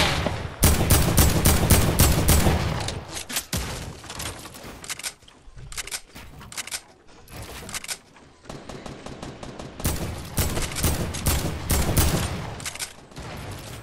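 Dense bursts of automatic gunfire in a console shooter scrim match, rapid volleys and single shots rattling loudly and nearly nonstop, with brief lulls and no voices.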